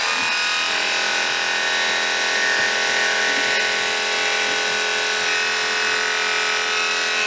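Electric clippers run steadily before clipping a horse, giving a continuous close buzzing hum that stays even throughout with no pauses.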